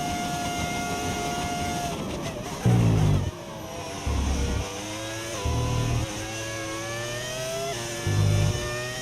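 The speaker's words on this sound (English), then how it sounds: "Does your car sound like a V10? Like it has a V10 engine?" A high-pitched V10 racing engine in F1 25 screams and climbs through revs, with repeated gear shifts and brief low thumps, steady and close.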